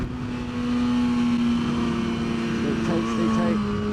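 BMW S1000RR superbike engine on a race track, a steady high-pitched drone held under wind rush with a rising pitch sweep near the end as the throttle opens.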